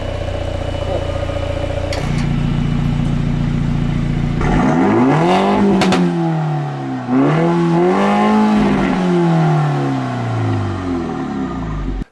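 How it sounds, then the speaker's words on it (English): 2015 MINI John Cooper Works engine and exhaust, a steady idle then loud revving that rises and falls in pitch with a raspy gurgle, close and alone with no talk. "One of my favorite things about this Mini is the exhaust note. It's got that kind of raspy gurgle when you let off the exhaust."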